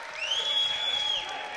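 A home crowd cheers and applauds for freshman Kevin Davitt at a Case Western Reserve vs. Washington University men's basketball game: a steady, fairly loud wash of crowd noise with a high whistle-like tone running through it.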